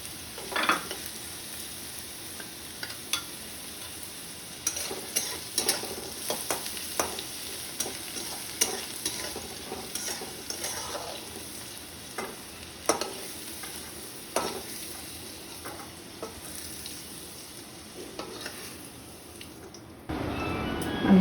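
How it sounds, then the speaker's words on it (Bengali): Potatoes fry in hot oil in a pan, a constant close sizzle broken by frequent sharp scrapes and clicks of a spatula stirring them, with the sound shifting and swelling near the end. "আলুটা দেখুন লাল লাল করে ভাজা হয়ে গেছে। এখন আমি আলুটা তুলে নেব।"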